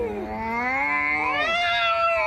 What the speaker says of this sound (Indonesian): Tuh kucing lagi demam, lu ajak berantem gimana sih Cing?